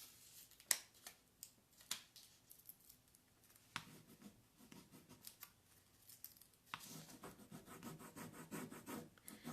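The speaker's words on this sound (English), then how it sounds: "You just have to be patient and you have to just keep rubbing." Steady scratchy rubbing of a Prima Redesign transfer being pressed onto a painted surface, close and quiet, with repeated strokes, brief sharper scrapes and a denser burst of rubbing near the end.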